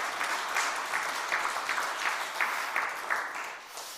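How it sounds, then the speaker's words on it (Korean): Church congregation claps to welcome newcomers during a Sunday worship service, a soft steady patter of applause with a gentle rhythmic pulse, moderately faint. "큰 박수로 우리 환영할까요?"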